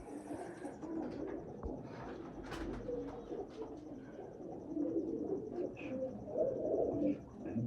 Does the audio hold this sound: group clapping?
no